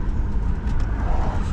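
Car passing nearby on a road, a steady loud rumble of engine and tyre noise filling the whole moment without speech.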